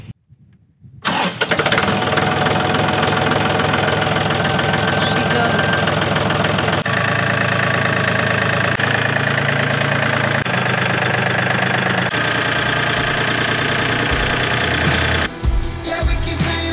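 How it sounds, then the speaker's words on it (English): A ranch tractor engine cranks and catches after a brief silence, then settles into a loud, steady, rumbling idle close by for most of the clip before sputtering briefly near the end. "The next thing is the tractor gonna start."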